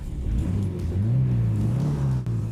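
An old abandoned car's engine running and revving, a loud, close rumble whose pitch climbs and holds before dipping briefly near the end.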